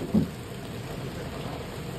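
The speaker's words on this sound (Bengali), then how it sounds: "বাইরে তো ঠেলে বৃষ্টি হচ্ছে" Heavy rain falls outside a hotel room in Digha, a steady broad hiss heard from indoors, with one soft thump near the start.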